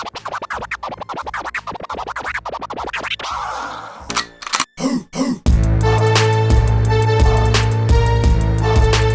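Record scratches chopped by a crossfader in a quick rhythmic nine-note autobahn scratch run, then a few sharp stabs, followed by steady loud music.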